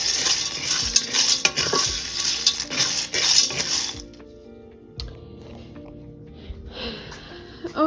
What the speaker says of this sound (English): When you brown it, you have to be moving it constantly so that way it doesn't burn